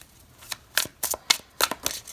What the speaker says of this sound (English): This is the part where I shuffle for 9 years.